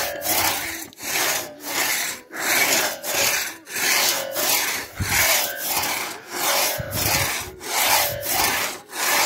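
Two men work a two-handed handsaw through logs in Chalacumalca, giving steady, rhythmic rasping strokes about every 0.75 seconds, loud and close, with no talk throughout.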